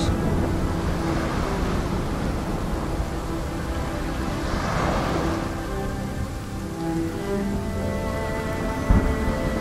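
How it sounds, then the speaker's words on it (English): Heavy rain pours steadily in the adventure game RiME, a dense continuous wash with deep rumbling thunder rolling underneath throughout, loud and close with no voices. "Oh man, it's a bad storm."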